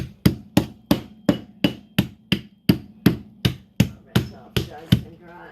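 A meat hammer pounds floured deer meat on a board in a kitchen, about a dozen sharp, loud thuds in a steady, evenly spaced rhythm, close by and alone without talking.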